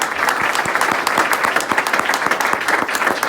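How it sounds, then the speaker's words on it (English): Audience applause at a Bridgeport police press conference honoring officers for heroism, a dense steady patter of many hands clapping close by, sustained throughout with no talk over it. "Give a round of applause."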